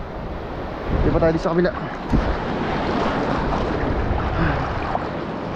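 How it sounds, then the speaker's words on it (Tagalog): Sea waves break and wash around a small fishing boat on the open water during ultralight fishing in the Philippines, a steady rushing surge with wind buffeting the microphone while someone speaks briefly over it. "naputok din pala ang alon dito."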